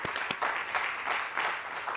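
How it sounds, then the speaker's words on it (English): An audience at an arts and culture event claps warmly for supporting organisations, producing a brief, dense burst of applause with a few sharp individual claps standing out near the start. "You deserve a warm applause."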